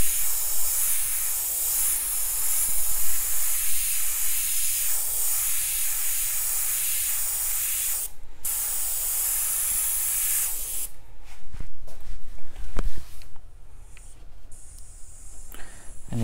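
An airbrush sprays paint onto a T-shirt with a steady, loud hiss for about eleven seconds, then breaks into short, uneven bursts of spray.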